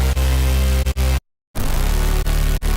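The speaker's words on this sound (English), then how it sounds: "that way you can actually use whatever that distortion is doing, even if it's creating like some weird artifacts after the node has ended" Distorted synth note with a dense, buzzing tone that cuts to silence, then returns with odd crackling artifacts and brief dropouts after the note ends, produced during a sound design session.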